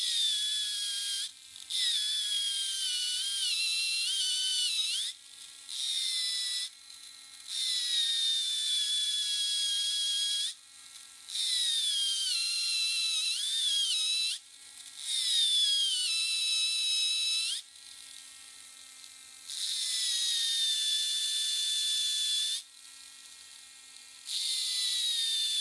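Hand file rasping across the plastic chassis of a Tamiya Mini 4WD, heard as long, steady scraping strokes that run several seconds each, separated by short pauses, fairly close and alone.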